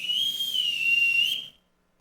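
A captain's shrill signal whistle, one long steady blast about a second and a half, loud and close, ending abruptly into silence with no talk.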